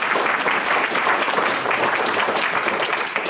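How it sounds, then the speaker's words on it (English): An audience at a city council candidates' forum applauds loudly, dense close clapping sustained evenly without pause. "Could we have a round of applause for all of"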